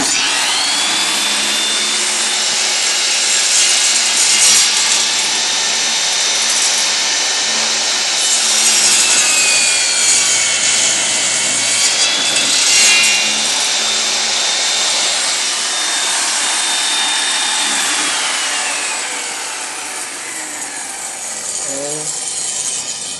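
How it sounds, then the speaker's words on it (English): Parallel saw mitering a 2x4, a loud sustained high-pitched cutting whir with grinding and rasping as the blade moves through the wood, easing off near the end as the motor winds down. "And let's miter a 2x4."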